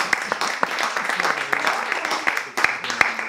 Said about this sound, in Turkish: alkışlıyoruz arkadaşlar